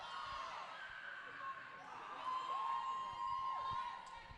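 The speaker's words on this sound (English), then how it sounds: "Very passionate cheer squad there." A roller derby supporters' cheer squad cheers in a distant, faint wash of crowd voices at a bout, with shouts and whoops rising and falling over a constant arena murmur.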